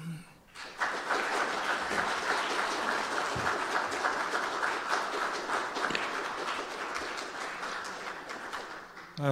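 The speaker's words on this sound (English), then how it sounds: "I hope you heard the applause." Steady applause from an audience, a dense wash of clapping that holds evenly for several seconds before tapering off at the end.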